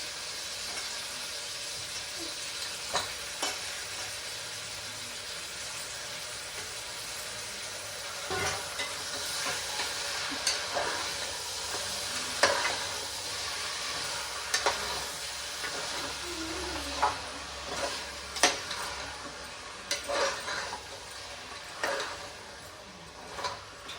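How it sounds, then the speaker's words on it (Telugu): Mutton with fenugreek fries in hot oil with a steady close sizzle, broken by irregular scraping stir strokes and occasional clanks against the pan, no voices. "ఇప్పుడు మెంతము మంచిగా ఫ్రై అయింది. ఇప్పుడు మటన్ వేసేసాను."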